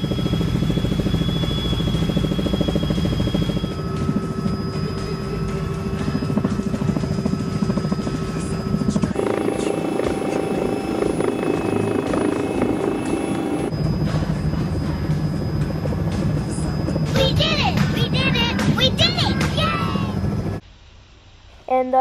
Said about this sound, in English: My first time going in a helicopter.